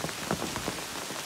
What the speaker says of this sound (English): continue to push on here in this little rain.